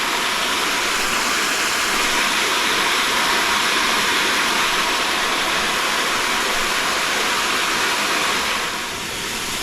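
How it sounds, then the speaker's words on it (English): Water pours into a backyard fish pond while bubbles aerate it, producing a loud, continuous broadband rush like a small waterfall that holds steady throughout. "the bubbles are aerating the pond, so it's gonna oxygenate the water for the fish."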